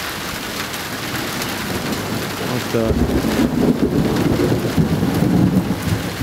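Summer thunderstorm over a rural homestead: steady heavy rain hisses throughout while a deep rolling thunder rumble swells from the middle onward; someone speaks briefly.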